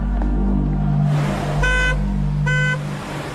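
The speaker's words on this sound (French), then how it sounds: "une voiture avec les feux stop allumés sur le côté de la route, actionnant son klaxon" A car with its brake lights on, parked at the roadside, sounds its horn in two short honks over a low rumble of traffic and engine noise.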